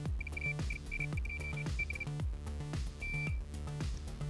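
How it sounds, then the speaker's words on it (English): Multimeter in continuity mode beeping while probing a Sinclair ZX81 board, short high beeps in an irregular series and one longer tone, faint under steady background music. "I'm using my meter on continuity mode and I'm pushing the pin around until there's no beep while I'm touching the leg"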